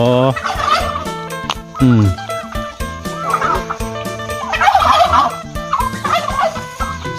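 Several turkeys gobble in rapid, warbling bursts, loud and close, overlapping one another with brief pauses between outbursts.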